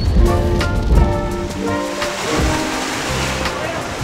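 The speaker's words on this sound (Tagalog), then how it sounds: "Lakas ng hangin. Pati lakas ng ulan." Strong wind and heavy rain outdoors, a loud continuous rush with buffeting gusts, while people talk and music-like tones sit underneath.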